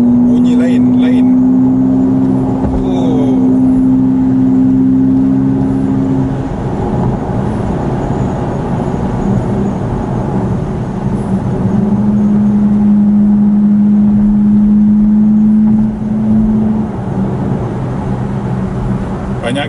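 Car engine hum during a test drive on a track, a steady low drone with sustained tonal whine that rises and falls, with someone talking over it throughout.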